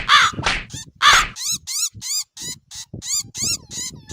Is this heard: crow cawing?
yes